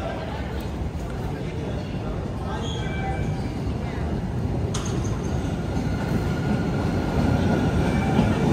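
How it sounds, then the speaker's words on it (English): A Boston Blue Line subway train running on third rail power rumbles and rolls past with a steady, gradually building roar, faint wheel squeal and clatter, and a voice speaking over it. "So right now this Blue Line train is running on the third rail."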